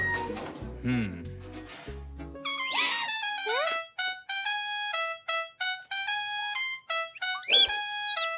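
A cartoon character imitates an elephant's trumpeting call with the voice in a French children's animated show, giving a series of loud, tonal, rising and falling honks with short gaps between them.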